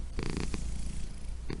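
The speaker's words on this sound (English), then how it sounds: "that is a cat, alright? It's a cute little cat, come here." A small cat purrs in the horror game No, I'm Not A Human, a short, close rumbling purr with a few louder pulses, alone without talk.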